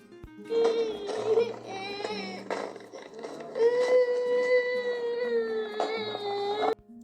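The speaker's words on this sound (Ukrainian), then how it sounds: "Це плач дитини." A baby cries in long, wailing bursts with brief breaths between, close and loud.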